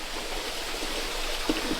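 Steady rushing flow of water deep underground in the Delaware copper mine in Michigan's Copper Country, a constant broadband wash echoing in the shaft, with no voices.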